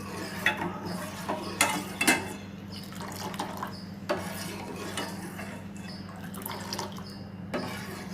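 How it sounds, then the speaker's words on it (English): A spoon scrapes and swirls around a metal pot of boiling milk in repeated strokes, with soft liquid sloshing under a steady low stovetop hum. "While boiling milk, if you keep mixing like this"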